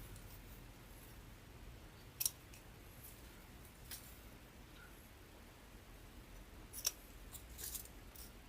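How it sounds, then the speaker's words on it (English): Scissors trimming ribbon tails on a grapevine wreath, a few faint, sharp snips spaced apart over quiet room hiss, no talk. "I'm going to start trimming some of these ribbon tails already, just because they're getting a little in the way."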